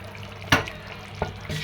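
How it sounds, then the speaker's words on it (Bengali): Fish pieces dropped into a simmering curry in a home kitchen give a sharp splash-sizzle burst, then a second smaller splash about a second later, over a steady low bubbling hiss. "তরকারি হয়ে গেছে, মাছ ছেড়ে দিচ্ছি।"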